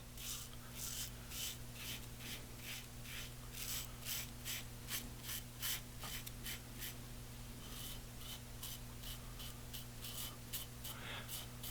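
Rhythmic scraping strokes of a Feather AS-D2 all-stainless-steel safety razor cutting through stubble, close and crisp, repeating steadily in short bursts over a low background hum with no talking.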